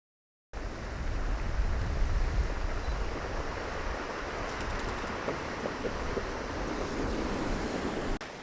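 Ocean surf washing and retreating along a beach, a steady hiss of foaming water with wind buffeting the microphone, continuous and fairly close after a brief silent start.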